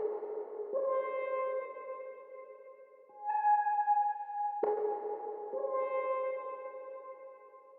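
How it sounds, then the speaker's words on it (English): Jazz archtop guitar used as a lead line in an R&B beat, playing sustained clean notes with a few loose, slightly off-grid attacks, moderately loud and alone. "I wanted to have like a lead sound, so I used this jazz arc top guitar."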